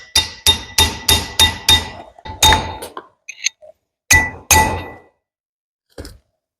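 Hammer striking a blunt, broken-tipped chisel against an axle: a fast run of six sharp metallic taps, then a few spaced blows and one last faint tap, close and loud with quiet gaps.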